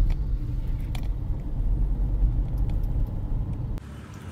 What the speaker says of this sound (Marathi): माणगामध्ये खूप ट्रॅफिक असते.